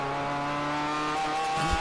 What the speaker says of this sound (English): It sounds like they're at full song here as they go through turn 5.